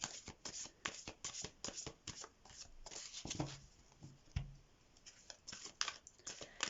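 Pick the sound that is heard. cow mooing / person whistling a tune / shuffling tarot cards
shuffling tarot cards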